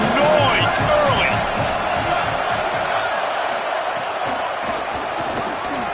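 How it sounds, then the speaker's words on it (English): Stadium crowd roaring steadily at a football game, a dense continuous wash of cheering and shouting with scattered whoops rising out of it, loud and sustained throughout. "This crowd bringing the energy and noise early"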